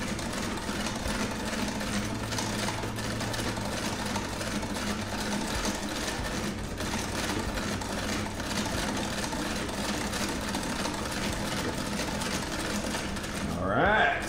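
A 1910 sewing machine stitches a seam in denim jeans with a continuous rapid mechanical whir and clatter, close and steady, while a person speaks over it.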